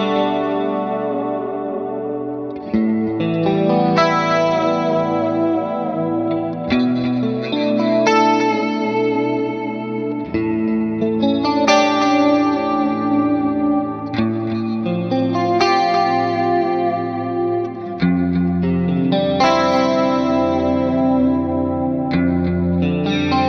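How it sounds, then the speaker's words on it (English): Guitar amp played through a Fractal Strato Cumulus reverb, with chorused, echoing sustained chords and melodic notes forming a lush, spacious wash that plays continuously and fairly loud. "Let's switch over to a more expansive reverb, maybe let's say the Strato Cumulus."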